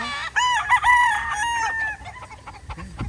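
Sweater Kelso gamefowl roosters at a game farm crowing, one loud close crow with rising and falling pitch, followed by lower clucks and scattered farmyard noise.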